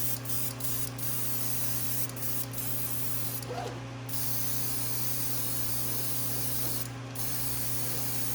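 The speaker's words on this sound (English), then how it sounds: "I'll spray one, then I'll pause it, and then spray a few more." Several hissing bursts of light blue spray paint from an aerosol can onto crankbait fishing lures, a few short puffs then longer sprays, over a steady low background hum.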